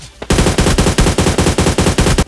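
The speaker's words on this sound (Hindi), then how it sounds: "कवर फायर आपने देखा हो कि भाई कितना तगड़ा आया" Loud, close automatic gunfire in a battle royale video game gives cover fire as one sustained burst of about ten rapid, evenly spaced shots that cuts off sharply.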